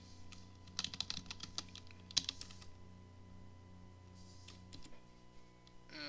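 Irregular bursts of keystrokes on a computer keyboard, quiet and close, with a few sharper clicks, over a steady low hum, then a pause before faint key taps resume.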